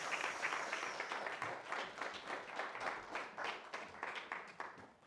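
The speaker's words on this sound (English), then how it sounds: "Let's clap them in." A church congregation clapping to welcome the children's church group forward, a dense run of many hands applauding together that stays fairly even and quiet throughout.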